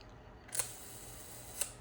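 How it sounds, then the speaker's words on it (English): Shutter of a Kodak Retina IIa camera being cocked: two small, sharp mechanical clicks about a second apart, close and quiet against a near-silent background. "And then this cocks the shutter."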